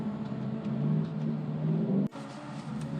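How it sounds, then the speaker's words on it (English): A car in manual mode drops gears through its steering wheel paddles, the engine humming steadily up close before an abrupt cut and a short gap, then the rumble returning at a different pitch. "So as you guys can hear, I'm decreasing gears."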